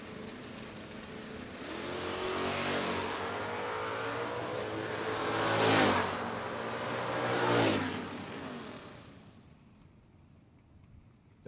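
Two drag race cars, a Mustang and a Dodge Dart, launch side by side in a heads-up no-box race, their engines roaring loud and close before swelling twice more as they pull away and fade.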